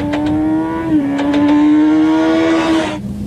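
A motorcycle powering out of a corner, its engine holding a strong steady harmonic drone that dips briefly, then rises under throttle before cutting off near the end, loud and close with no talk.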